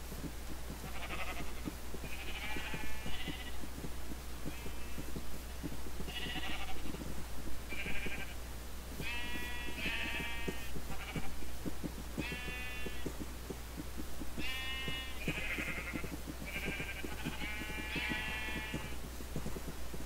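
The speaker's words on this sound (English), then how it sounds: "I got sheep everywhere." Sheep in Minecraft bleat again and again in short, bright calls, several animals overlapping at close range over a steady low hum, with no talking.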